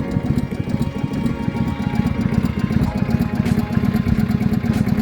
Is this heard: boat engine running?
yes